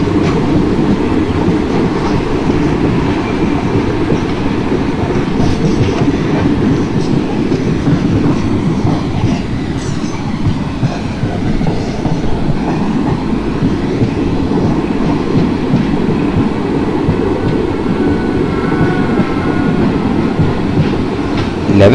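A passenger train on the Bhusaval–Katni route in the MSTS Open Rails simulator hums and rumbles steadily throughout, with a rhythmic low clatter and no voices.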